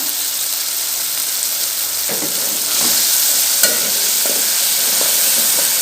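Masala spices fry in a pan and are stirred, a constant bright sizzle with occasional scraping clicks from the stirring, steady and close throughout.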